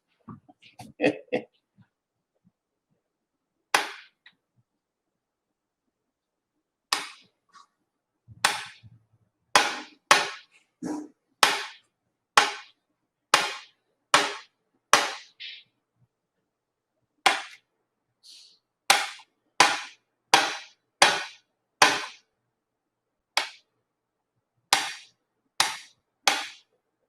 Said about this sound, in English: is me chopping up these eggs.